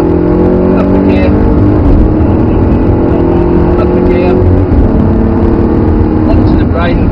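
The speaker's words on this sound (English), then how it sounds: "build the power up, it's really good, well done, accelerate out, up the gear" An Audi R8 accelerating and shifting up a gear, a loud continuous engine drone with rising tone heard from inside the car, with a voice talking over it.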